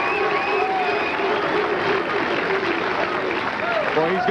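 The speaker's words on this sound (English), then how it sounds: "The crowd really comes alive when the bowler gets the 11th one." Spectators at a professional bowling match clapping and cheering loudly, a sustained roar of applause with shouts and whoops mixed in, while a commentator talks over it.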